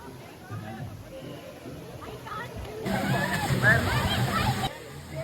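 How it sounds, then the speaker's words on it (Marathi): Water sloshes and splashes steadily at a waterfall, growing louder midway into a rushing spray, with distant voices chattering underneath. "धबधब्यावरून उडी मारताना"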